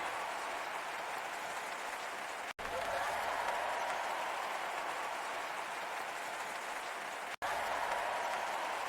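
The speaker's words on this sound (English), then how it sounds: "Everyone claps." Audience applause at a dolphin show, a steady, even wash of clapping lasting the whole stretch with two brief dropouts, moderately distant and without talk.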